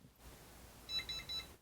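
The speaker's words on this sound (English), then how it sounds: "If you hear 3 beeps, it was unsuccessful" Weiser PowerBolt electronic deadbolt, a left-hand lock, gives three short, faint high beeps after a failed code programming attempt, evenly spaced over low room hiss.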